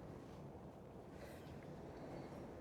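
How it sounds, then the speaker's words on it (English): Wind blows steadily outdoors in snowy weather, a low continuous rushing roar buffeting close to the microphone with no other clear sounds. "Ooh, that wind."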